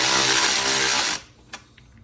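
A cordless electric ratchet whirs loudly and steadily, close by, for about a second, then cuts off abruptly, followed by a short click and faint handling noises.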